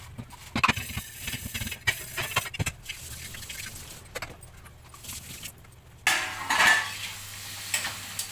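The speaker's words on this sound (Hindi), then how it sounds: "अब फिर ये बर्तन धो रही हूँ, बहुत थोड़े से बर्तन हैं।" A small load of dishes and utensils is washed by hand at a home sink: sharp, scattered clinks and clatters of metal and crockery come at irregular intervals, with a short burst of running water near the end.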